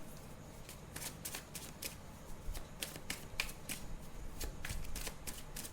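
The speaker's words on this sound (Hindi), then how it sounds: "चलिए एक और कार्ड लेते हैं" Tarot cards shuffle in steady, crisp riffling bursts close by, followed by soft flicks as cards are drawn, with no talking over them.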